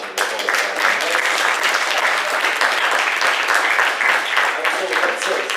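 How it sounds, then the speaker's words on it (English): An audience at a conference gives the panelists a round of applause: thick, continuous clapping from many hands that stays loud and even throughout, with no speech on top. "I would like to give a big round of applause to our panelists"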